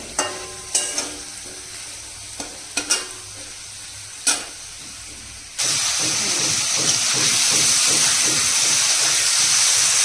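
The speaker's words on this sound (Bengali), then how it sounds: "এটা তুলে নিয়ে ফুলকপিটা ভাজা বসিয়ে দেবো" A few clanks and taps, then a sudden loud, continuous hiss and crackle as lightly steamed cauliflower hits hot oil in a pan and keeps frying.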